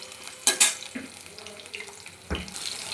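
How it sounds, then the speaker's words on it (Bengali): Vegetables frying in an oil-filled pan for a Bengali sukto, with bitter gourd among them. A steady low sizzle is broken by a few sharp clattering stirs and scrapes, close and fairly quiet. "একে একে সব সবজি আমি ভালোভাবে ভেজে নিচ্ছি"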